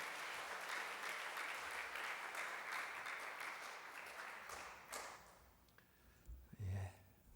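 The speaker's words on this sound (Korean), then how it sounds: "큰 박수로 축하하겠습니다." A church congregation applauds during a Sunday worship service, steady dense clapping that fills the room for about five seconds before thinning out, followed by a few scattered low thumps and a faint voice near the end.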